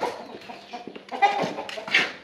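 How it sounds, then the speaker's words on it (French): Brahma chickens at a village poultry farm in Cameroon cluck and murmur close by in an ongoing, busy chorus, with a sharper squawk toward the end. "nous avons les poulets brahma. Nous avons les poulets brahma."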